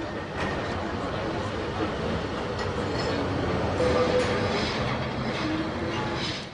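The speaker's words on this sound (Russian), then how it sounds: "Трамвайный маршрут 28 спускается вниз к Альфаме." A Lisbon tram on route 28 rumbles along a narrow street toward Alfama with steady rolling noise and faint wheel squeal, while people talk nearby.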